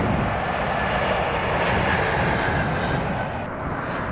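Class 66 diesel locomotive 66120 hauling a Carlisle to Millerhill West Coast engineers train, a loud, continuous engine roar and rumble passing close by with no talk.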